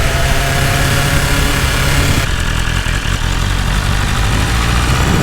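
BMW S1000RR superbike engine, a 2020 model with the rev limiter removed, droning steadily and loudly throughout while riding, with a continuous mid-low hum and road vibration and no talking.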